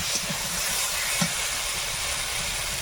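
A steady hiss of steam as water is poured into a hot frying pan of fried potatoes, continuous and close, with a couple of faint clinks.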